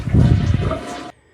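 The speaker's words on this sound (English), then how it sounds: "I flushed the toilet a few times to get the water out of the tank." A toilet flushes as its tank drains during a tank-to-bowl gasket repair, a loud close rush of water that cuts off abruptly near the end, leaving quiet.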